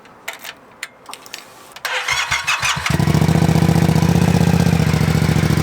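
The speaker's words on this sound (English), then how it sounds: "And if you guys can hear that, that's an acropovic exhaust." A motorcycle fitted with an Akrapovic exhaust cranks with a few quick starter bursts, then catches and settles into a loud, steady, throaty idle close by, with no talk over it.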